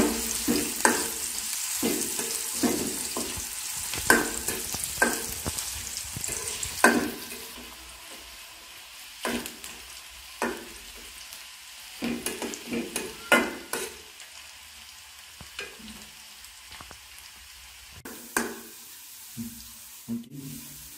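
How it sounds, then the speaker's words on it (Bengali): Sliced onions frying in a pan for a home-style bottle gourd peel vegetable dish, with steady sizzling broken by repeated clattering scrapes of a spatula stirring them, loud near bursts alternating with quieter stretches. "এবার একটু ভালো করে নাড়াচাড়া দিয়ে পেঁয়াজটাকে লাল করে ভেজে নিতে হবে।"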